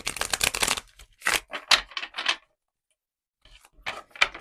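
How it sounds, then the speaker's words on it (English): Tarot cards being shuffled by hand, with crisp riffling bursts in a quick series, a pause, then a few more close, sharp flutters. "One more shuffle."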